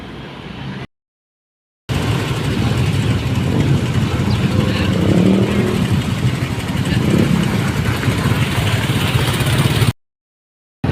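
A motorcycle rides through floodwater on a road trip, its engine droning steadily close by with a broad rushing, splashing wash over it, interrupted by brief gaps of silence near the start and end.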